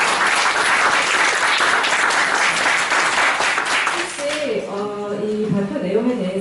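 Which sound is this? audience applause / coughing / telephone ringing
audience applause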